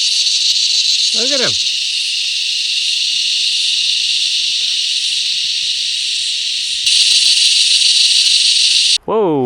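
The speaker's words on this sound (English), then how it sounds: "Here's some footage of what it's like when the cicadas are going nuts down here." Cicadas near a creek shrill loudly and continuously in a dense, unbroken drone that swells louder near the end, while a person speaks briefly over it.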